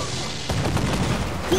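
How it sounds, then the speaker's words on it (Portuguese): Rapid booming cannon shots in the video game Assassin's Creed IV Black Flag fire in a dense burst, loud and continuous, with a brief tonal blip near the end. "Estou atirando!"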